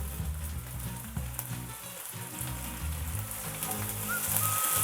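Beef keema sizzling and frying in a karahi as crushed tomato paste is added, a steady close crackle with soft stirring throughout, under low background music and no talk.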